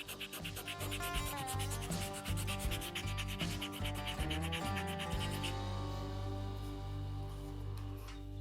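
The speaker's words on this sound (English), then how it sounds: "if you're using little strips of sandpaper on curves, put duct tape on the back of the sandpaper" Strips of duct-tape-backed sandpaper rub by hand over the curves of a wooden ring box, quick rhythmic scratchy strokes close up, stopping partway to leave a quieter background.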